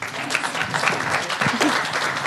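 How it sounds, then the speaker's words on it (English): Applause from an audience at a foundation awards event, a few seconds of mixed clapping with some voices and cheers mixed in, moderately near and fairly loud. "So another round of applause for The Price is Right"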